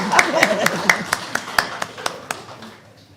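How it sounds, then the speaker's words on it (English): A small audience claps at a moot court certificate ceremony, a few hands striking in a steady, evenly spaced rhythm that thins out toward the end, with a voice talking underneath. "You guys could clap, we're not in court."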